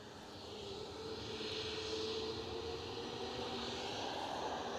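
A jet airliner departs Edinburgh airport, its engine roar swelling in from the start and then holding as a steady, moderately distant rumble with a faint whine, no voices.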